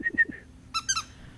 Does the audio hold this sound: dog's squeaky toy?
yes